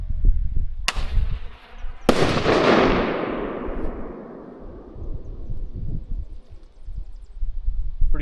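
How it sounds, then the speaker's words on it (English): A bear banger firework fired outdoors in the Alberta backcountry: a loud bang followed by a second, bigger explosive blast that rumbles and fades slowly over several seconds. "shoot off a bear banger and let's get him running"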